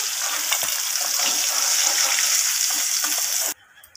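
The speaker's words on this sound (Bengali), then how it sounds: "তো এই মাথাগুলোকে তেলের মধ্যে আমি ভালোভাবে লাল লাল করে ভেজে তুলে নেব।" Hilsa fish heads fry in hot oil with a steady, bright sizzle and crackle, close and continuous for about three and a half seconds before it suddenly cuts to near quiet.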